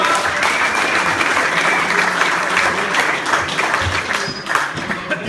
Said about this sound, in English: give Jason a big round of applause.